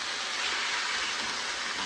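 Chicken searing in a hot pan while gluten- and dairy-free dinners are cooked, giving a steady, dense sizzle and hiss that runs without a break at a moderate level, with no talking.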